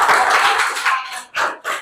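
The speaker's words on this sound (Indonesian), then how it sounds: "Oke, tepuk tangan." Students in an Indonesian school classroom clap their hands together after a dance activity, a brief burst of close, uneven clapping with short gaps and a final few claps.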